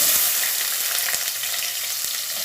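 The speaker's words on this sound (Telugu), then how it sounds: "ఉల్లిపాయ ముక్కలు వేస్తున్నాను" Onion pieces frying in a pan make a loud, dense, continuous sizzle close up, with faint stirring clicks underneath and no speech.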